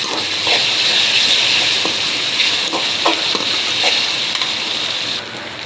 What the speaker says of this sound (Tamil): நல்லா இது வாசனை போக வதங்கணும்